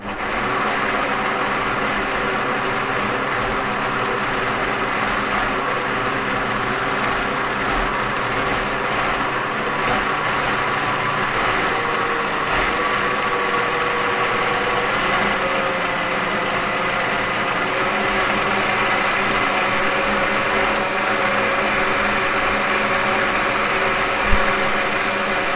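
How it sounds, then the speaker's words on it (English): Blender running steadily to puree blanched green peas with a splash of their cooking water, a continuous high motor whir with a grinding rattle, sustained and fairly loud for the whole stretch. "don't be afraid to let your blender go, because it needs to go for a few minutes to make sure you get a nice smooth puree."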